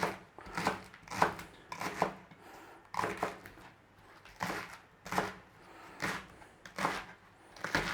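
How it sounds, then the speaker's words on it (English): A knife slices through a bundle of leeks on a chopping board, a steady series of crisp, close cuts at a regular rhythm, about one every half second. "Now with the leeks, you just want to be slicing them through, you know."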